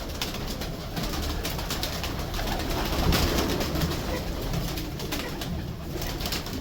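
Pigeons kept by a fancier coo steadily against a noisy, constant background, with no talking.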